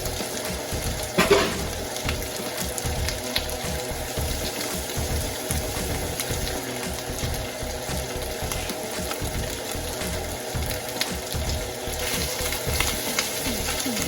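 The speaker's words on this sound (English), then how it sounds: "Let it fry." Cooked rice fries in a pan for spam fried rice, giving a steady, close crackling sizzle throughout with a brief louder clatter near the start and no talking.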